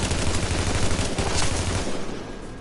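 Rapid automatic gunfire from the player's weapon in the video game The Division, a loud dense burst of shots that runs steadily and then thins out toward the end.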